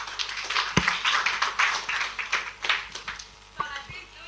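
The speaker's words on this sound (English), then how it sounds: "let's clap for Mr." Audience at an entrepreneurship workshop clapping for a speaker, scattered moderate clapping with a few sharp individual claps.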